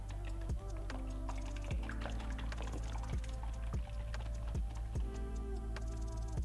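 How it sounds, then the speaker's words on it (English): A whisk beats eggs with salt and pepper in a bowl, giving a regular series of clicking taps against the sides, close and fairly faint. "Gonna put some salt and pepper and whisk it up."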